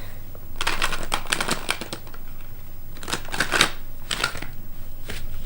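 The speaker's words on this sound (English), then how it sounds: "Let's get one more good shuffle in." Card shuffling in quick riffling bursts, three main flurries separated by brief pauses, crisp and close with no talking.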